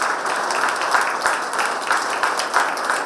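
Steady, dense applause from a crowd at a Buddhist vihara in Nagpur, many hands clapping together at an even level for the whole stretch.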